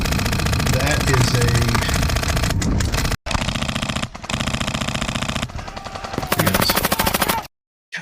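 An M249 SAW airsoft machine gun rattles off blanks in long, loud, rapid bursts, with short gaps between strings of fire and a sudden cutoff near the end.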